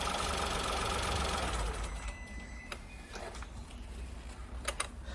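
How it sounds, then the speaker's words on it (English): A 2017 Toyota Aygo engine idling during an oil and filter change, a low steady hum that is louder at first and then settles, with a few faint clicks and knocks nearby. "got the engine running, it's running nice and sweet."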